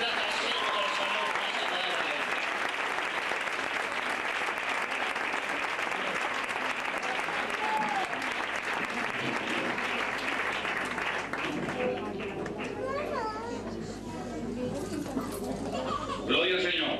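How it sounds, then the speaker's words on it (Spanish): A church congregation at a Spanish-language sermon in Elche gives loud, sustained applause for about twelve seconds, dense and continuous, before it fades and a single voice begins speaking over the quieting room. "Dale un fuerte aplauso al Señor"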